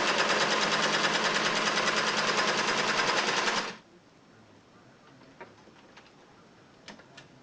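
A Singer 600E sewing machine stitches in a fast, even, loud whir for several seconds, then stops abruptly, leaving faint clicks and handling sounds.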